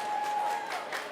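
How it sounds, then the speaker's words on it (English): Brief applause from an audience at a COP30 community action session, moderately loud and continuous over about a second. "Round of applause for you guys."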